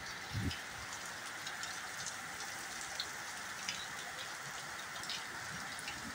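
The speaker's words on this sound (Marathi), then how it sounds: "कंटिन्यू आजचा 9वा दिवस आहे, कंटिन्यू पाऊस बघा" Steady heavy rain pours down at night without a break, a dense wash of hiss with scattered drops pattering up close and one brief low thump near the start.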